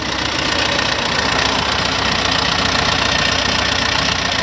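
An 88-horsepower Isuzu engine mounted on a farm vehicle runs continuously and loudly, a close, steady mechanical drone with a knocking clatter and no voices.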